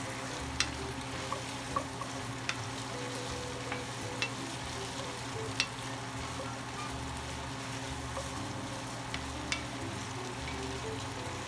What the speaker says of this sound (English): Stir that in good.